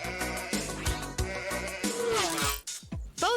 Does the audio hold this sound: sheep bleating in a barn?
yes